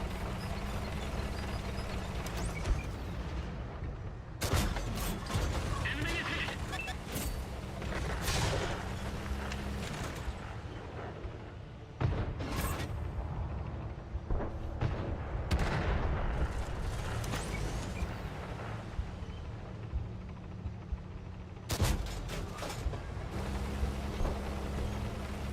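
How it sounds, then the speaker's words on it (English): Tank cannon shots and gunfire in World of Tanks, fired at the player's tier 8 tank during a match: several sharp booming blasts spread over the stretch, with a steady rumble of engines and battle noise underneath, no talk. "they're trying to shoot my poor little tier 8 tank"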